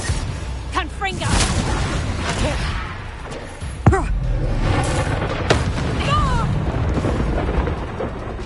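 Fiery Confringo spell blasts in the Hogwarts Legacy video game, booming bursts mixed with gasps and sighs over a dense battle din, one sharp loud crack near the middle, with voices shouting spell names.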